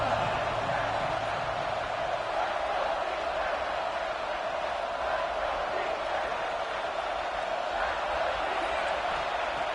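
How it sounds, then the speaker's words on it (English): A stadium crowd roars steadily at a college football game between Oklahoma and LSU, a dense, continuous wall of cheering and yelling that never lets up, with a play-by-play announcer talking over it. "the crowd coming to life here trying to help this defense down in the red zone"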